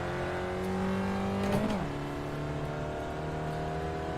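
A race car engine in the iRacing sim holds a steady high drone, its pitch dipping and rising briefly around a gear change, continuous and close with no voices.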